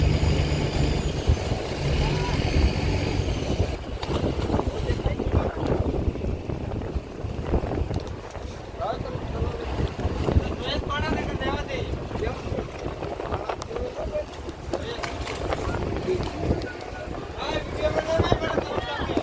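A fishing boat running at sea off Gujarat, its engine and hull giving a steady, loud roar mixed with wind buffeting and splashing water, with voices talking over it throughout.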